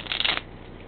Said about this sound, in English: Shuffle it again.